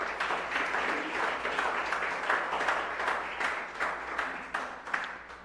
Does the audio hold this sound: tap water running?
no